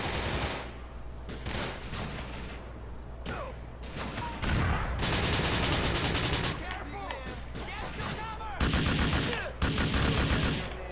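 Rapid bursts of automatic gunfire and explosions from the video game Grand Theft Auto IV, loud and sustained with brief pauses, while a player talks over the action.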